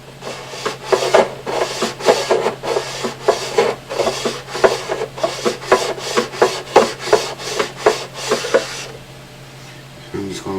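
Fret ends on a Martin 00028 acoustic guitar scraped with a rough metal file, a steady run of close rasping strokes in even rhythm that stop near the end.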